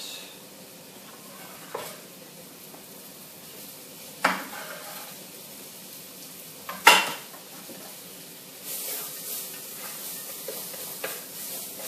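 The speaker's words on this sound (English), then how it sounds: "In go the onions." Onions with spices and fresh chilli hitting a hot pan, a soft steady sizzle under a few sharp clanks of a utensil against the pan and some stirring, no talking.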